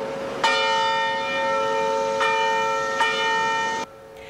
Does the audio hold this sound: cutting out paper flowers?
no